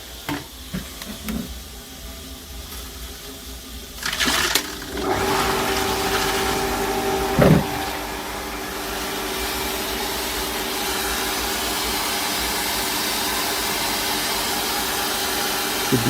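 A household water pump, installed backwards at a retirement home in Thailand, starts up and runs steadily while filling the bathroom pipes. Its continuous, close whirring hum follows a few faint knocks and a short surge.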